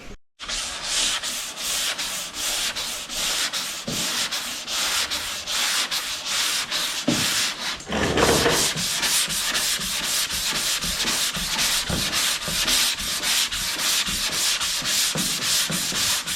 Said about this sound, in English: I will sand some of that Bondo.